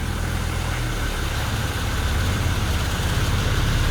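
A Mercedes-Benz car engine runs with its throttle held by a rope, giving a steady, close, low rumbling idle that holds even throughout.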